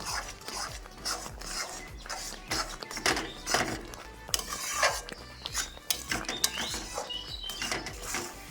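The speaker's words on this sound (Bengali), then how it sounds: "এটা আস্তে আস্তে এরকম করে নাড়তে নাড়তে ঘন হয়ে যাবে, একদম শুকনো হয়ে আসবে।" Green banana mash is stirred in a pan until thick, with a busy run of repeated scraping and knocking strokes of a spoon against the pan, close and fairly loud.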